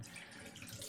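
Dark dirty water from a Dreame H12 Pro wet-dry mop's tank runs and splashes into a sink. The rinse makes a steady, close rushing gush of water with no speech.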